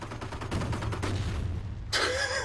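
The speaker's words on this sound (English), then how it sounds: "You just took a direct cannon fire to your foot." Rapid cannon and gunfire bursts from a World War II battle in Company of Heroes, dense and continuous across the clip, ending with a louder sharp blast.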